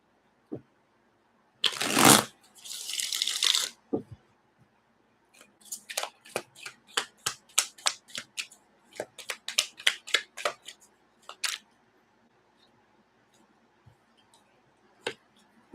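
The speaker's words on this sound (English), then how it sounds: "I shuffled this deck." A deck of playing cards shuffled up close: a burst of riffling, then a quick run of sharp flicks and snaps that thins out into a few sparse taps against near silence.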